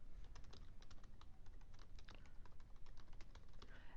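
Steady typing on a computer keyboard while entering a title into an Excel spreadsheet cell, quick irregular clicks close up in a quiet room.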